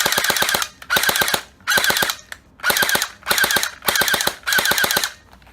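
A Well D95B MP5 airsoft gun fires full-auto in seven short, loud bursts of rapid clattering shots separated by brief pauses, with no voices.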